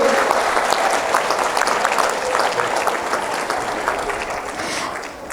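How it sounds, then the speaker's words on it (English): Audience applause honoring a former senior counterintelligence agent at a school district and city officials' Ugadi 2018 event: sustained, loud clapping from a crowd that tapers slightly toward the end. "He deserves a big round of applause for that, for serving our country."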